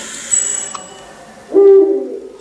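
A single owl hoot, a clear low tonal call near the end of a short, quiet clip, with a faint whistle just before.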